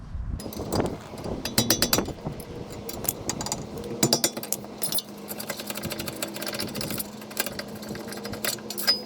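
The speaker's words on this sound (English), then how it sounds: "Okay, removing the caliper mount. There's 2 bolts, one here and one there." Caliper mount bolts being removed from the brake of a 2009 Honda, with repeated metallic rattling bursts and clinks of a tool loosening bolts, loud and close, in intermittent rapid runs over a low steady hum.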